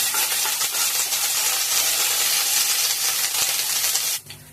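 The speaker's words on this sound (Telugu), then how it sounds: "ఇప్పుడు ఇందులో మనం కొద్దిగా అల్లం వెల్లుల్లి పేస్ట్ వేసుకొని ఫ్రై చేస్తాము" Ginger garlic paste frying in a pan for tomato rice, a steady, loud sizzle and hiss held close for about four seconds before dropping away abruptly at the end.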